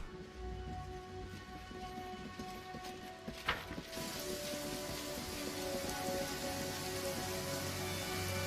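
Steady rain hisses in a scene from the video game Pathfinder: Kingmaker, a soft continuous patter with faint tonal hums beneath and a brief sharp crackle midway.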